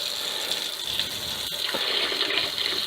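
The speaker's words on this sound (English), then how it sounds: "I just put some cold water in the sink." Cold water running from a tap into a sink, a steady hissing splash heard alone and close, with a faint click partway through.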